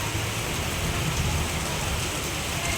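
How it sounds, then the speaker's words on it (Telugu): Heavy rain pours steadily onto flooded streets in Rajendranagar, a dense, continuous hiss that stays even and close throughout with no breaks. "ఈ వర్షం చూడండి"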